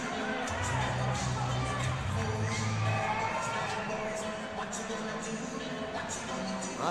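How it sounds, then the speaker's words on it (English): Hockey arena crowd chanting and cheering for Reggie Millette after an undisciplined penalty, a broad roar of mixed voices with rhythmic chant fragments and some high shouts. "Reggie chants here in the arena"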